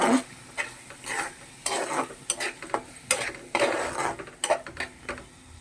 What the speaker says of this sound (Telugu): కొంచెం కొత్తిమీర పుదీనా వేసేసుకుందాం ఒకసారి బాగా కలిపేసుకుందాం